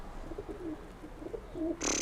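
Breeding pigeons at a home loft give a few soft, low coos over a hissy background, ending in a sudden burst of bright high-pitched noise.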